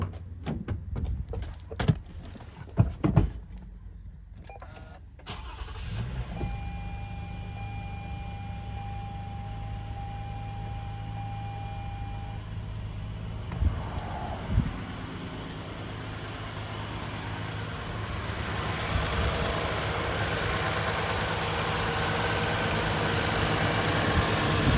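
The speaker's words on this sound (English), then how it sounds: "Start it up, and we'll listen to it one more time and then take it for a test drive." A 2020 Toyota Sienna engine with a freshly replaced water pump starts after a few clunks and settles into a steady, close mid-pitched idle hum that holds for about twenty seconds.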